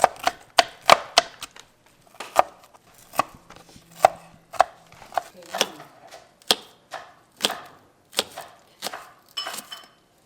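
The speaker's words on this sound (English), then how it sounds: "Look at Mama's chopping skills" Food being chopped on a cutting board, a quick run of sharp knife knocks that slows into steady, evenly spaced chops, close up with nobody talking.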